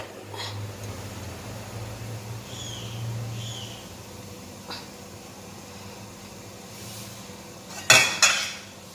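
Small dhokla bowls set one at a time into a pot of boiling water, a few soft clinks early on, then two sharp metallic knocks close together near the end over a low steady hum.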